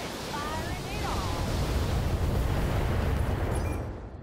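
Mech weapons fire in the BattleTech video game during a Battlemaster attack, letting out a deep, rumbling roar that swells and sustains for several seconds before fading. Thin electronic chirps sound briefly near the start.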